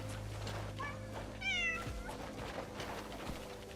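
A cat meows in a video game, a couple of short high mews and then a longer clear meow over a soft lo-fi music bed, fairly close and quiet.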